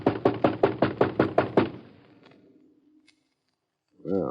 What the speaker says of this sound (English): Let's bang on the door.